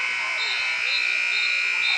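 A basketball game buzzer sounds at a Lakin Broncs vs Colby game, a loud, sustained electronic drone lasting the full two seconds, with brief pulsing in its tone and faint crowd noise underneath.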